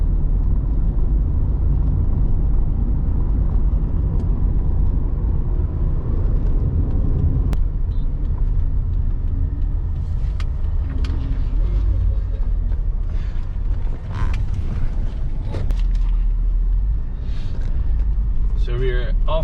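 A vehicle driving off-road along a jungle track into a nature resort in Guyana, its engine rumble steady and close throughout with bumps and rattles, and people talking over it.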